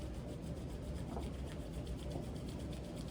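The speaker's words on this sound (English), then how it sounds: "bring palms together, rub them vigorously, generating heat" Palms rubbed together vigorously to build heat during a hatha yoga class, a steady close rasping friction that runs continuously with no talking.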